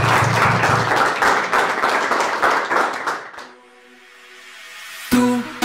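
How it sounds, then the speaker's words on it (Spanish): Loud applause from an audience greets a special guest at a live event, steady clapping filling the first three and a half seconds before fading into a quiet musical tone, then a burst of music at the end. "Yo quiero que la recibamos con un fuerte aplauso."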